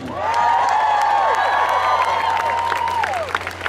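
A rally crowd in Brooklyn cheers, whoops and applauds loudly and steadily from start to finish, a dense wash of clapping and shouting voices with no speech over it.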